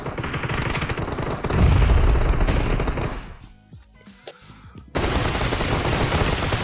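Rapid gunfire from a shooting video game with an M24 rifle match, loud sustained bursts that cut off into a short quieter gap before heavy firing resumes abruptly.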